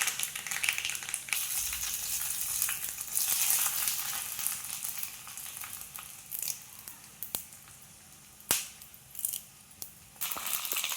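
Mustard seeds, dried chillies and curry leaves fry in hot oil for a tempering over pineapple pachadi, giving a steady close crackling sizzle with sharp pops and spits that thin out into intermittent bursts toward the end.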